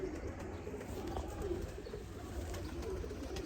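Sialkoti pigeons coo softly among a home flock of breeder pairs, low repeated murmurs with a few faint chirps over steady background noise.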